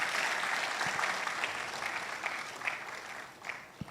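An audience applauds a speaker at a university management day celebration, a soft, distant patter of clapping that gradually thins out, with scattered claps standing out near the end.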